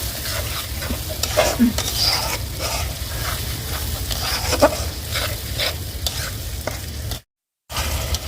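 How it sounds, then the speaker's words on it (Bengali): Spice paste with green chillies fries loudly in an oiled pan, a steady crackling sizzle under repeated stirring and scraping strokes, broken by a short gap of silence near the end. "পুরো মশলাটা একেবারে ভাজা ভাজা হয়ে গেছে"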